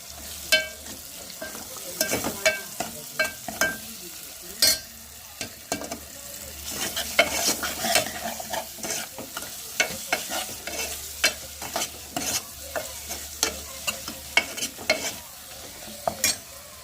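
A coriander, coconut, ginger and garlic paste is stirred and fried in a pan, with a steady sizzle under frequent sharp scrapes and clicks of a spoon against the pan, close and busy throughout, no talking.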